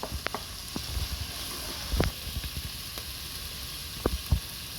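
Finely chopped carrot goes into a hot, sizzling pan while cooking macaroni, a steady hiss broken by a few soft knocks and light thumps as the pieces land.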